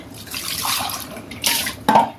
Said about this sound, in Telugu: ఒక రెండు గిన్నెలు పడ్డాయి కాబట్టి ఇవి కూడా కడిగేస్తానండి